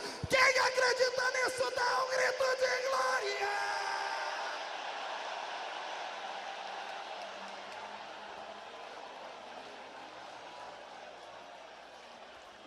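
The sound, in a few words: congregation shouting in response to preacher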